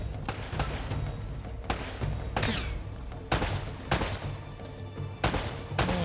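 Rapid gunfire in the Uncharted: Drake's Fortune video game: a string of sharp, loud shots spread irregularly over several seconds, with some close together in short bursts.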